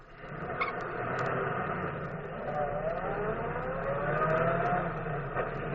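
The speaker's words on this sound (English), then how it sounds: "Now, I'll start the car." Old-time radio drama car engine effect: a steady, close rumbling engine that runs throughout, with a whine rising in pitch partway through, and no talking over it.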